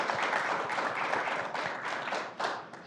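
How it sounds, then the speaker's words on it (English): Audience applause for the panelists at the close of a congressional discussion series, a dense steady patter of many hands at moderate distance, fairly quiet, with a brief swell near the end. "Let's give them a quick round of applause."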